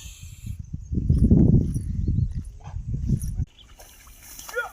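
A dog barks and growls in rapid bursts close by while chasing away monkeys, then the commotion cuts off, leaving faint outdoor noise.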